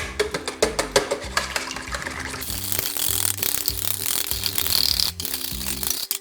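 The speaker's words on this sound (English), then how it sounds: "So we beat our eggs." Eggs being beaten in a big bowl for a pudding, a fast clicking, rattling rhythm of utensil on bowl that runs continuously and close, with no talking.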